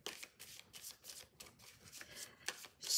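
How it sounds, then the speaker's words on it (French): Tarot cards are shuffled by hand, giving a quiet, close run of papery riffles and flicks in an uneven rhythm. "je vais tirer une autre carte"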